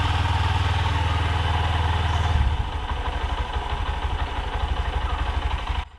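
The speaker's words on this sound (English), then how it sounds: "The engine turns on without any gear meshing noise in race state, and then it sets well into a silent and very relaxed form." A Honda SP 125 BS-6 motorcycle engine fires up and settles into a steady, smooth idle, a loud close hum that quiets slightly after a couple of seconds before cutting off at the end.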